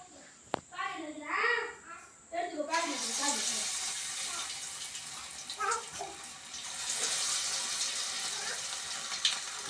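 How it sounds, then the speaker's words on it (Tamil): Squid pieces go into hot oil and set off a loud, steady frying sizzle that runs for several seconds, with a few brief tonal voice sounds before it begins. "கனவா மீன் எண்ணெய் சூடாகிடுச்சுங்க இப்போ கனவா மீன் எடுத்து பொறிக்க போகிறோம்"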